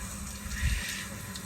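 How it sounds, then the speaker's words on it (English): Water runs steadily through sprinkler system lines in a yard, a continuous close rushing hiss without a break and with no voices. "you can hear the water as it's running through all the lines throughout the yard"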